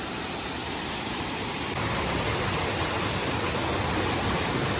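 Steady, close roar of water rushing down a small waterfall into a stream in a rural home setting, a dense unbroken wash that grows slightly louder partway through, with no voices.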